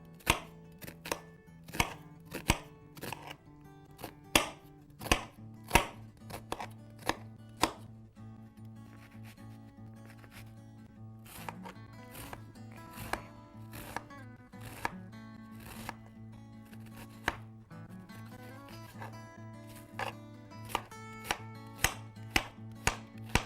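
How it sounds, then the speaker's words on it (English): A knife chops food on a cutting board in a home kitchen, with sharp, close, rhythmic knocks that come in irregular bursts and pauses over a low steady hum, no voices. "this I do like to chop it, you know, not too small, but pretty small"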